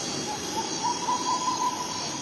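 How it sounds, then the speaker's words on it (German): A tawny owl calls at night, a drawn-out wavering hoot ringing at moderate loudness over a steady bed of cricket-like insect noise and outdoor ambience. "Das war ein Käuzchen. Ja, eine kleine Eule."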